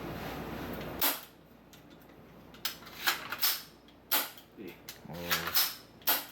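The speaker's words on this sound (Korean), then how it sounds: "배터리를 분리를 하고" A battery is detached from a GBLS DAS M4 GDR15 CQB airsoft gun: a series of sharp plastic clicks, creaks and knocks at irregular intervals, close and crisp against a quiet room, with a short snap of mechanical rattling near the end.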